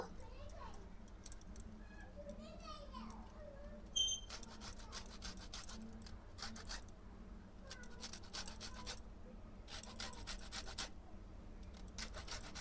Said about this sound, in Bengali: লেবুর ওপরের সবুজ পাশটা এইভাবে একটু ঘষে দেব।